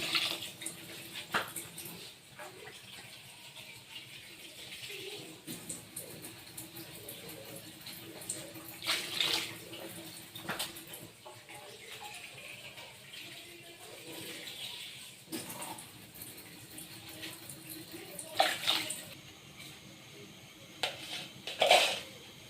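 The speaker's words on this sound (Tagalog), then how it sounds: "Mag-add po tayo ng tubig" Water splashes and trickles into a cooking pot of mung bean dish with bitter gourd leaves amid faint kitchen clatter, with a few brief sharp clinks, moderately quiet and fairly close.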